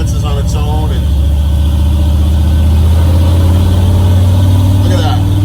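A car engine fitted with Holley Sniper EFI runs loud and close, holding a deep, steady rumble as the throttle is rolled in, while someone talks over it.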